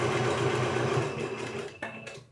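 Close, steady whir of a sewing machine stitching at speed. It slows near the end and stops with a brief clunk.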